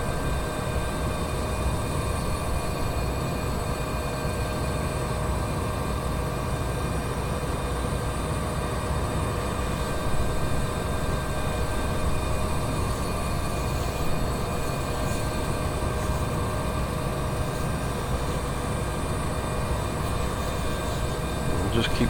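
Steady, continuous engine and rotor drone of a Bell 412 helicopter running at low RPM in the X-Plane 11 flight simulator, with constant tonal whine throughout and no breaks.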